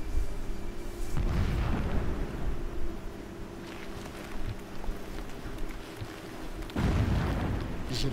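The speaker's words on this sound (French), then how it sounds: "J'ai les oreilles qui sifflent à chaque nouvelle explosion." Heavy explosions in the video game Horizon Zero Dawn boom twice, each a sharp blast followed by a rolling rumble, with a lower continuous roar between them.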